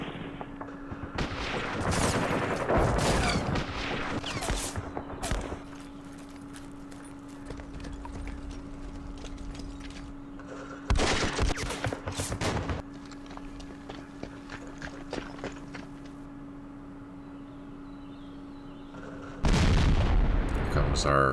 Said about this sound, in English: Here comes our artillery support.